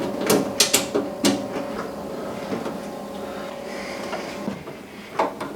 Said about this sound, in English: We'll get those screws started and get those in there.